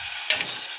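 Spices stirred into tomato rice in a hot pan, a soft continuous sizzle with one brief scraping stroke of the spoon near the middle, close and alone.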